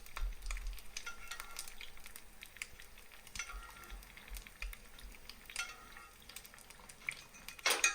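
An egg fries in a hot cast iron pan, sizzling steadily at close range. Intermittent metallic scrapes and clinks come from the utensil basting it.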